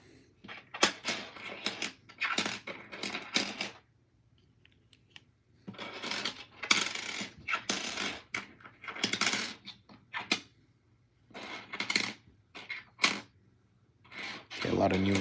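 Nickel coins from a roll tumble and clink in repeated bursts of metallic jingling, close and fairly loud, with quiet gaps between handfuls as they are dropped and sorted.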